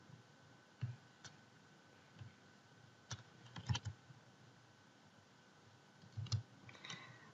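Computer mouse clicks in a software program, a few faint, sharp clicks scattered irregularly over a quiet room background, some in quick pairs.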